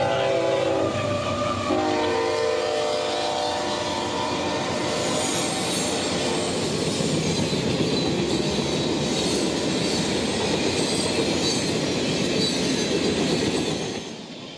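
A long Conrail freight train, about 10,000 feet, rumbles past close by in central Florida, a horn sounding briefly at the start, then steady heavy wheel and car noise for the full length.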